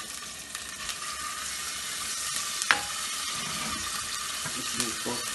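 Ginger garlic paste and green chili sautéing in oil for a jackfruit biryani, a continuous hissing sizzle with occasional stirring scrapes and a few louder knocks, fairly close and without speech.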